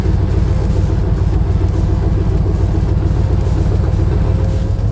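A 1965 Ford Cobra replica, a Factory 5 build, pulls away with a steady, loud engine rumble that stays constant and close throughout, with no talking.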